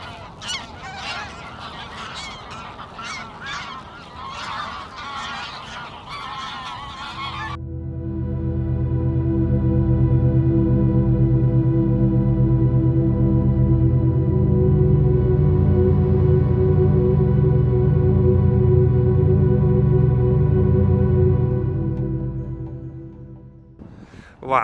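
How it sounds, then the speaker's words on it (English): A small flock of geese honking as they lift off from water at close range, first mixed with splashing and wingbeats, then a loud, sustained chorus of overlapping honks that fades near the end. "I was lucky enough to have a number of attempts at takeoffs with small flocks of geese"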